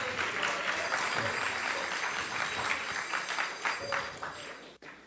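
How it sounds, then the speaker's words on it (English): Sustained applause from a lecture audience on Bhakti yoga, thanking the speakers; dense steady clapping fills the whole stretch before fading abruptly near the end. "would like to give them a round of applause"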